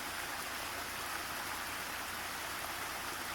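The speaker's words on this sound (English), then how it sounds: "This is a view of the same stream on the other side of the road, and it's still running pretty good" A swollen stream beside a road, still running strong after heavy overnight rain near a cabin, makes a steady, even broadband rush of flowing water that holds unbroken throughout, with no voices.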